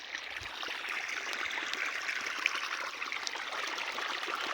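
Quiet, continuous trickle and gurgle of water running from an irrigation pump motor into field channels of a cumin field at night, heard alone without voices.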